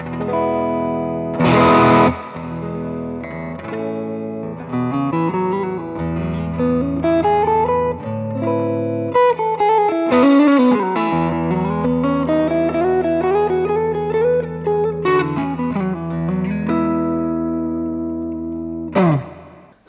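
An Umeda UST-20 RSM Strat-style electric guitar with heavy distortion plays a melodic lead line with bends and sustained notes, some strummed chords, solo and upfront.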